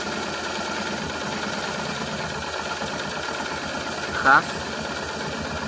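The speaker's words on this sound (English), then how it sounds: "You see how the idle is very rough." Honda Transalp motorcycle engine idling roughly with a fuel-air mixture screw fault, a steady uneven mid-pitched chug running close and continuous, while someone talks over it and a brief clink sounds near the end.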